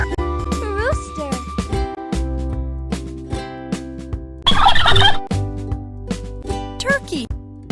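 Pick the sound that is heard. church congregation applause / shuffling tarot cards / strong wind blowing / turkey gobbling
turkey gobbling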